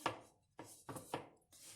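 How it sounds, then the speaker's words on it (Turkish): A knife chops meat into pieces for a casserole dish in a home kitchen, four crisp knocks on a board spaced about half a second apart, close and clear with no talk. "Evet, etlerimizi bu şekilde doğruyoruz."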